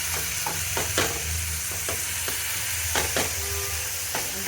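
Finely grated onions frying in a pan for kebabs, a constant close sizzle with intermittent clacks of stirring.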